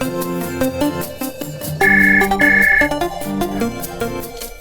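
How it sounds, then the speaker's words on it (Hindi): An electronic phone ringtone plays a repeating melodic pattern, loud and clear, with a sharper high tone in the middle and no voices. "दूरभाष की घंटी बजी"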